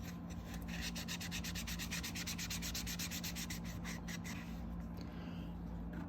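Plastic on a solar light being polished with an abrasive polish, a close, steady rhythmic rubbing with fast back-and-forth strokes that continue throughout, with no talk.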